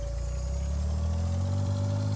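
A lawn tractor engine idles in Farming Simulator 19, a steady, close mechanical drone with a low rumbling hum that holds unchanged throughout, with no voices.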